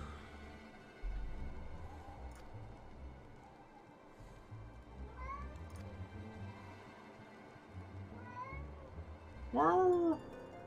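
A pet cat meows loudly at close range, a few drawn-out cries with a sharp, loud wail near the end, over a low background murmur and faint game audio.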